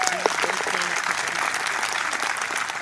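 Golf spectators on an English course applaud steadily and loudly throughout, a constant wash of clapping with a few voices mixed in near the start.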